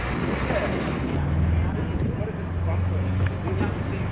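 A boat motor drones steadily over water, with wind buffeting the microphone and a voice speaking faintly underneath.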